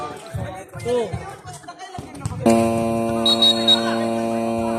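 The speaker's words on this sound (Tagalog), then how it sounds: "Shot clock violation po." A shot clock violation buzzer sounds at a basketball game, a loud sustained electronic tone cutting in partway through and holding steady to the end, after a stretch of courtside talk and crowd chatter.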